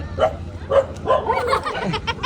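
A puppy yips and barks in a quick series of short, high, close barks, with faint voices nearby.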